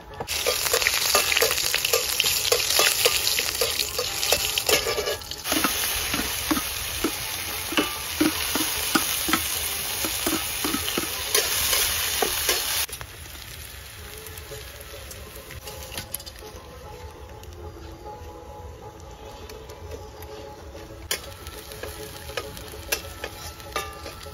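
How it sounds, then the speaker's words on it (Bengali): Onion fries in oil with bay leaf and cumin, a loud close sizzle with rhythmic scraping stirs that later drops to a quieter, softer crackle with occasional clinks. "পেঁয়াজটা একটু আমি ভেজে নিলাম।"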